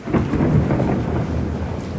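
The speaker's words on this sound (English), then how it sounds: "Why does it sound like rain's in the house? Because you left the sliding door open." Thunder rumbles low and steady with rain hissing throughout, heard indoors through an open sliding door, a continuous dense wash with no pauses.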